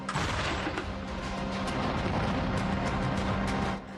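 Dense, sustained roar of heavy artillery fire, loud and continuous for several seconds without pause, dropping off abruptly at the end.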